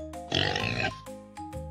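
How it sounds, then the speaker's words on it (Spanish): A farm pig oinks and grunts in a short rough burst, close and fairly loud over a light musical backing, with no speech. "Este es el sonido que hace el cerdo."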